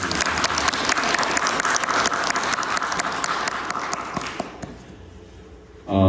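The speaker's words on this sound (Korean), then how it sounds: "격려와 축하의 박수" Loud, dense applause from a church congregation celebrating a newborn, sustained for several seconds before thinning out and stopping.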